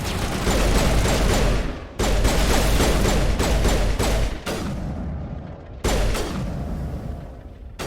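Sustained gunfire in Mass Effect 1, dense bursts of rapid shots with booming impacts, loud and close, broken by a few brief pauses.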